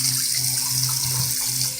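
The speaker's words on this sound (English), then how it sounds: "So we'll just give this a rinse." Tap water runs steadily to rinse an electric foil shaver, a close, even hiss and splash that continues alone for the whole moment.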